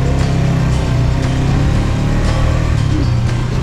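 A motorbike engine labours steadily up the Telomoyo mountain road, its loud continuous drone holding near and unbroken with slight shifts in pitch as it climbs.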